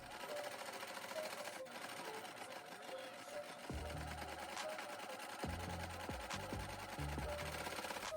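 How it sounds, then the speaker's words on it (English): A sewing machine stitches down a strap on a cropped button-down shirt, a close, rapid mechanical chatter running steadily with brief pauses and restarts, no talk. "And then sew down the strap so it can be clean"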